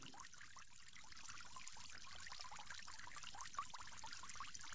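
Water pours and trickles over forearms during ablution for prayer, a steady close splashing stream that runs continuously with no talk.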